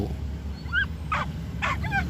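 Dog in the game Into the Dead 2 lets out a few short, high whimpering yips, spaced apart over a steady low background hum.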